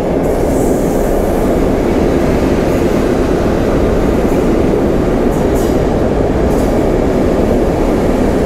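A PKP Intercity train rolls steadily toward Kraków Główny, a loud, continuous rumble of wheels and carriage with faint rhythmic clatter and occasional higher squeal, no voices.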